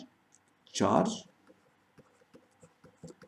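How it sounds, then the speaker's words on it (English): Chalk or marker writing a charge calculation on a classroom board, heard as a short scratchy stroke followed by a string of faint taps and clicks. "So we write here charge"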